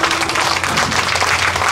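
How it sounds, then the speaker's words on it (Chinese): An audience applauds at the 2022 Taipei Hot Spring Festival concert during a band's impersonation show, a loud, close, continuous patter of many clapping hands with no talk over it. "先来一点掌声鼓励一下。"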